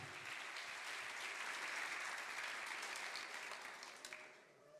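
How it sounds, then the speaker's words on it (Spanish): Church congregation applauding the Lord during a Spanish-language sermon, a continuous even wash of clapping throughout, fairly distant and soft, tapering off in the last second. "Dele un aplauso ahí al Señor"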